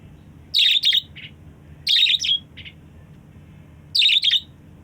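Small house birds chirping nearby in three bright bursts of rapid twittering, each about half a second long and spaced about 1.5 seconds apart, over a quiet low hum.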